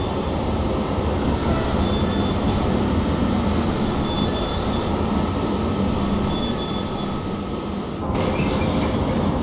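A BR111 electric locomotive in a train simulator game, hauling an S6 commuter service from Köln toward Düsseldorf with a steady loud rumble of wheels on track and a faint squeal, running continuously and close.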